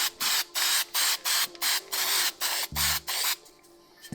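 Spray adhesive hisses onto a transmission gasket on a Kenworth K100 cabover truck: about a dozen short, loud, rhythmic bursts in quick succession, ending with a brief low clatter.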